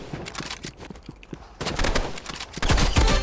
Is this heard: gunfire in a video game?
yes